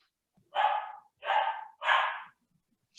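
A dog barks three times in a row, clear and evenly spaced, with quiet pauses between barks and no talk over them, heard at an evening panel discussion.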